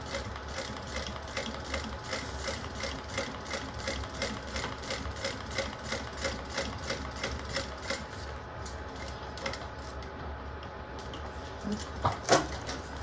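Sewing machine stitching across fabric, a steady rhythmic run of needle strokes at moderate level, with a brief clatter near the end.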